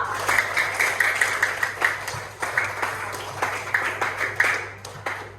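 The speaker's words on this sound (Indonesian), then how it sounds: "Tepuk tangan untuk kalian semua." Scattered, uneven clapping from a small classroom group in Indonesia after group 5 finishes presenting; the claps come as distinct, moderately close bursts over a steady low background hum.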